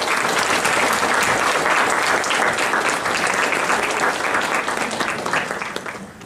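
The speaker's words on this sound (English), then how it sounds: "Would you please welcome Mr. Woodworth with a warm round of applause." Loud, sustained applause from an audience at a pro-life evening event welcoming a speaker to the stage, steady for several seconds before starting to taper off near the end.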